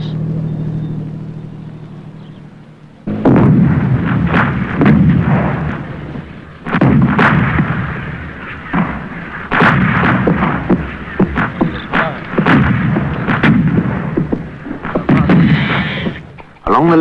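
Artillery shelling along a frontier booms in heavy, repeated bursts after a quieter rumbling opening, several loud impacts following one another with short gaps, forceful and close.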